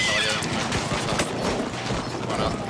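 Horse in the Battlefield 1 video game whinnying and galloping through a dense, loud mix of battle noise and gunfire, with a player's voice shouting over it.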